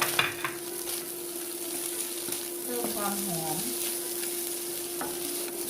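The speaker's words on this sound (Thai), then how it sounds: "ต้องไปคนเขาแรงนะคะ เดี๋ยวเนื้อปูเขาจะเละนะคะ" Carrot and onion stir-fry in a hot wok for crab fried rice, giving a steady close sizzle with scraping of the spatula, while someone speaks briefly over it.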